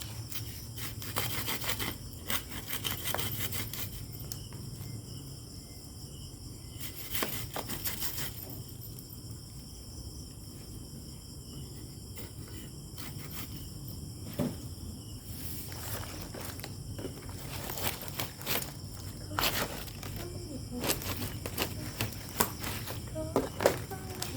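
Close, scratchy sawing strokes rasp around the peel of a Taiwanese black sugarcane stalk in irregular bursts, with soft handling noises between them.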